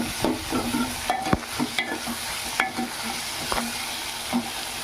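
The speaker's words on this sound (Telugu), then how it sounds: "అవి కూడా బాగా కలుపుకుందాం" Tomato and green chilli pieces frying in oil in a pan while being stirred, continuous sizzle with clicking utensil taps and scrapes against the pan, close up and steady.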